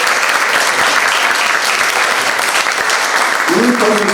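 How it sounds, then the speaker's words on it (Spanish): Audience applause at a lecture honoring a doctor, steady dense clapping from a seated crowd filling the room throughout, with a brief voice murmuring near the end. "quiero pedirles un fuerte aplauso"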